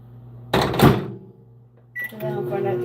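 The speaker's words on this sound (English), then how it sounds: "So let me put this back in the microwave." A microwave oven door shuts with a clunk, then a short beep follows as the oven is started and begins its low running hum, in a home kitchen while melting chocolate for candy and strawberries.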